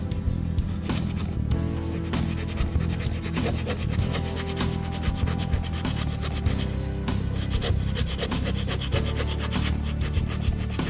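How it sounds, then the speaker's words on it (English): A bicycle inner tube scuffed with the small rasp tool from a patch kit around a pinhole, a close, continuous gritty rubbing in quick back-and-forth strokes with no voice. "Get your tool that come with the kit, sand it down."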